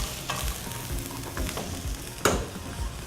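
Garlic and onions frying in a hot pan, a steady close sizzle with stirring scrapes and one sharper clatter, no talking.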